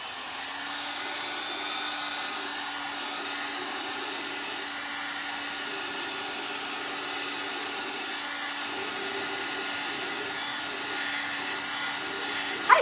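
Hair dryer blowing on a painted glass Santa craft: a steady, close whirring drone with a constant hum that runs unbroken for the whole stretch, ending with a faint click, no talking.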